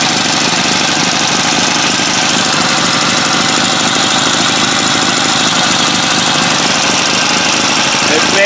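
An M1 Chang Jiang motorcycle engine running near idle, a loud, steady, close mechanical drone with continuous rattling vibration throughout.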